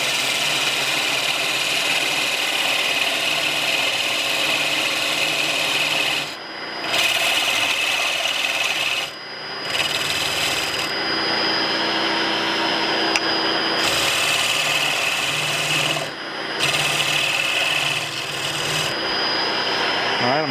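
A wood lathe spins while a tool rasps steadily against a turning wooden barber's pole, a loud continuous scraping hum broken by several brief pauses as the cutter lifts off the workpiece.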